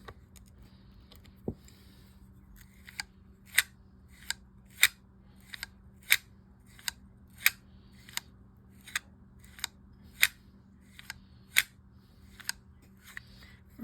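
A screw being tightened on a Daiwa AS4050 fishing reel during anti-reverse repair gives a series of about fifteen sharp, quiet metallic clicks at a steady pace, close up, with no talk.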